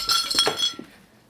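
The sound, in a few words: glass knocked over, ice spilling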